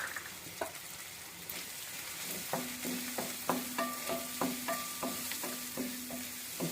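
Chana dal and cabbage curry is stirred in a pan over gentle frying sizzle, with a series of regular scraping and tapping strokes of the spoon, quiet and close.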